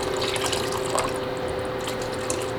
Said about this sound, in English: I want to add some of that stock in there.